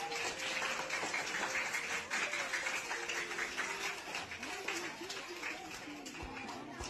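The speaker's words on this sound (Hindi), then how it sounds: "एक बहुत बड़ी ताली इनके लिए बजनी चाहिए" An audience at a social-commentary event claps steadily for several seconds, with crowd chatter and voices mixed into the applause throughout.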